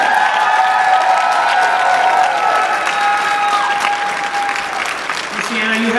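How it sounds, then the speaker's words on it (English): An audience applauds retiring teacher Michele Siano at a Smithtown West High School theater department musical show: dense, steady clapping that holds at full volume for the whole stretch, with no voices over it. "So could everyone just give a round of applause to her?"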